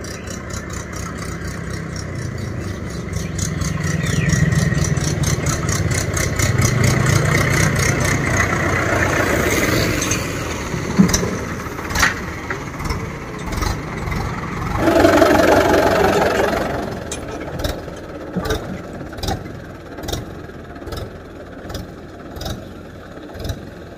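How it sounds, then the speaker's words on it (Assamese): A heavy diesel tractor engine rumbles and rattles, growing louder as it draws near, with clanking knocks and a few sharp ticks toward the end. "এই ট্ৰেক্টৰ আহি ওলাইছেহি"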